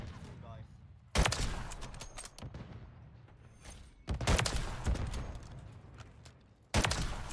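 Loud sniper rifle shots in Modern Warfare 3, three sharp heavy cracks a few seconds apart, each trailing into game noise, with a voice talking throughout.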